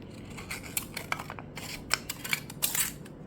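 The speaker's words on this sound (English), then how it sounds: "I'm just going to cut a random leaf shape." Scissors cut a leaf shape out of a CD in a run of sharp, close snips and crunches, irregular and quick, with no talking.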